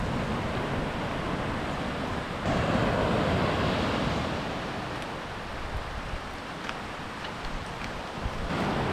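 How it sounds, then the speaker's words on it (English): Powerful ocean waves break on a beach in Dingalan, Aurora, Philippines, during the rainy season: a dense, loud, continuous surf roar with swelling crashes and some wind buffeting, no voices. "I can hear the waves already. They sound very powerful."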